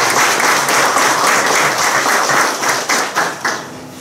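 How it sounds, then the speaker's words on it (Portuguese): Church congregation breaks into a dense round of applause during a service in Varginha, loud and steady before thinning out near the end, with no talking over it. "Uma salva de palmas"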